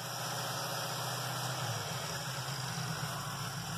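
A cold-started engine idles steadily with the choke plate partly open, a constant low hum and even, noisy rumble close by with no talking.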